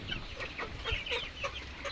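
Hens with chicks clucking close by on a farm, a quick run of short, soft clucks and peeps in a brief burst, with no talking.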